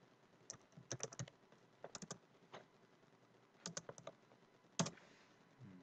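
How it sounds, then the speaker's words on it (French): Someone types a single word on a computer keyboard, quiet and close. Short bursts of clicking keystrokes are separated by pauses, ending in one sharper key press, with no talking. "On va aller taper informaticien."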